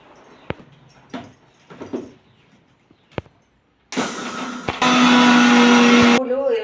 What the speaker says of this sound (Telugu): ఒకటి ఒకటి మిక్సీలో వేసి మిక్సీ చేసుకోవాలి ముందు నువ్వులు వేసి పొడి చేసుకోవాలి